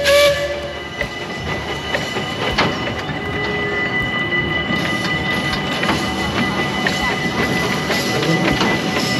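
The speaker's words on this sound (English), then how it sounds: "It's a miniature steam train, Tristan." A miniature steam train at the Efteling theme park in the Netherlands gives a steady, loud hiss and rumble, with sustained whistle-like tones running through it, close by and with no talking.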